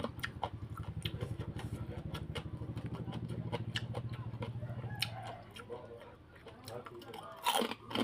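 Someone eats crispy pork rinds alongside a spicy Thai papaya salad, and there is close, repeated crunching and chewing in a steady rhythm that thins out toward the end, with a few quieter noises.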